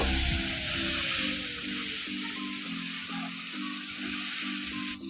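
Rice for pilaf sizzles loudly in a hot pan as water is poured in, a steady broad hiss with a faint rhythmic stirring or bubbling beneath, close and continuous without any talk.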